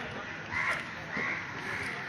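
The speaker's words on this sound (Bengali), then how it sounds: "এত কাক উঠছে কেন কি হয়েছে" Several crows caw in brief bursts against a steady background hiss at Piali railway station, fairly distant and faint.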